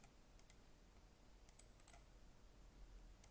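Computer keyboard and mouse clicks while survey control data is keyed into 12d Model software, a handful of faint, sharp, scattered clicks against quiet room noise with no talking.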